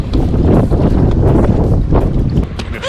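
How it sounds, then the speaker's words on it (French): A strong north wind at sea off Caye Caulker, Belize, buffets the microphone in heavy rumbling gusts, with water and boat noise churning underneath. "le vent du nord s'est levé"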